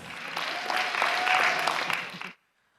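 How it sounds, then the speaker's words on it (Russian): Stormy applause from a KVN league quarterfinal audience in Yakutia, a dense, steady roar of many hands filling the hall before cutting off sharply into silence. "Бурные аплодисменты."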